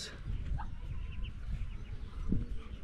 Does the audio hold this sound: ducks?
yes